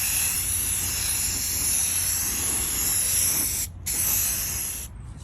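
Spray primer hissing from an aerosol can onto PVC parts in a steady, close, loud blast, with two short pauses near the end.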